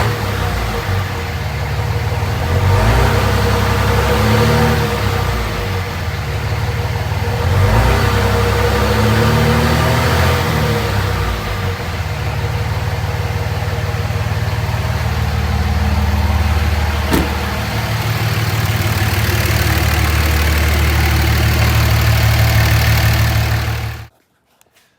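A third-generation Cummins diesel pickup engine, turbo silencer ring removed, idles with no load and a deep, rumbling clatter, close and constant, then cuts off abruptly at the end.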